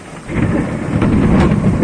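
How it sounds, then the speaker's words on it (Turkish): Heavy rain pours steadily while deep rumbling thunder rolls underneath, loud and close, with no voices, during a stormy day at a village house. "Aşırı yağmur var, aşırı şimşek,"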